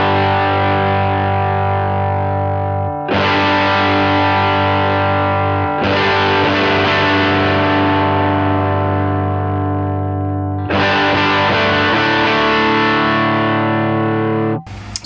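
An electric guitar through a Line 6 Helix amp model plays loud, heavily distorted sustained chords, struck several times and left ringing for a few seconds each, with no talk over it.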